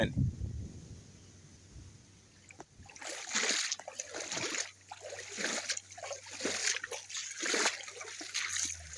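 Water runs through an irrigation canal with close, uneven trickling and splashing bursts, and a voice speaks intermittently over the flow.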